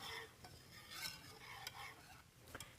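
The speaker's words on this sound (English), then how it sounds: "I'm going to whisk that in" Cream of wheat being whisked into milk in a pot, soft continuous scraping and stirring with faint clinks of the whisk against the pan, quiet and close, no talking.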